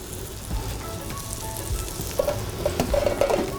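Walleye cakes searing in a hot pan, a steady close sizzle and crackle with a few sharper pops toward the end.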